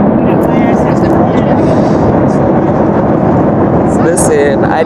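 Loud, constant roar of an airplane cabin on a flight to Jamaica during turbulence, steady broadband rumble throughout with a person speaking over it.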